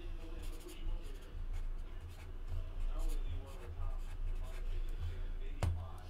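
A pen writes names on paper at a sports card box break, with soft scratching strokes and rubbing that come and go under quiet background talk. A sharp click is heard near the end.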